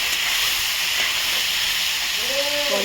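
Coriander and turmeric powder frying in a pan as they are stirred for a vegetarian cauliflower dish, giving a steady, close, even sizzling hiss throughout with a faint tone at the very end.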